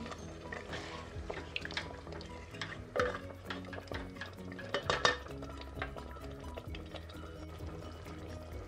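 Water poured into a pot of mutton curry on a high flame, a steady wet pour with stirring clinks of a spoon against the pot and faint sizzling underneath, close and alone without voices.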